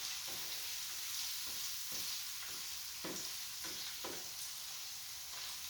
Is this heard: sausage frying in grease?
yes